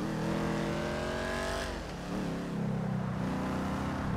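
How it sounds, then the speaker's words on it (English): A car engine in Grand Theft Auto V revving up through rising harmonic tones, dropping off, then revving again at a lower steady pitch, loud and close. "I love the sound of these cars"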